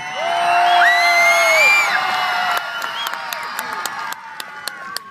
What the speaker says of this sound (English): let's make some noise for Daniel Whitby.